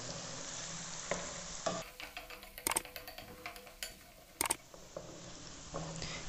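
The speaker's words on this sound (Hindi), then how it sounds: "लहसुन का कच्चापन ख़त्म करेंगे और तब तक प्याज भी लाइट गोल्डन हो" Onion and garlic frying in a cooking pan, a soft steady sizzle with occasional scraping stirs and a couple of sharp utensil clicks against the pan, faint and close.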